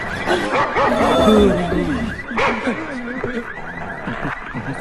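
A dog barking and yipping close by in a steady run of short, high, excited barks with some whiny tones, with no pauses between them.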